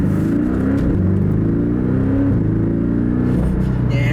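A 2018 Porsche 718 Cayman GTS turbocharged engine pulls hard under acceleration, a loud steady drone rising in pitch through the gears with a brief shift dip, heard from inside the cabin without talk.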